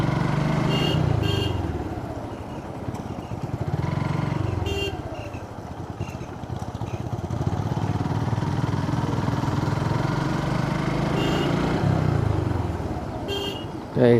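An RTR motorcycle engine drones and revs in waves while overtaking in road traffic, with car horns tooting intermittently nearby and other vehicles passing.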